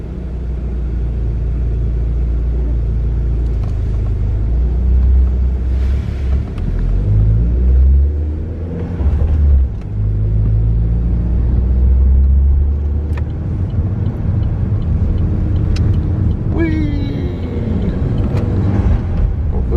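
A car with a still-cold engine drives along a road, a loud steady rumble of engine and road noise that swells and eases as it accelerates, heard alone from inside the car.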